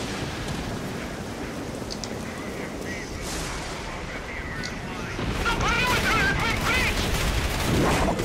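Gunfire and explosions in the video game Dark Sector form a dense, continuous rumble of shots and blasts that grows louder toward the end, with a player's voice talking over it.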